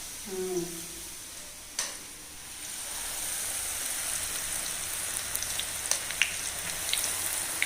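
Thavala vadai batter frying in hot oil, a steady, close bubbling sizzle like light rain that swells after a spoonful drops in, with small pops and clinks scattered on top and a brief voice at the start.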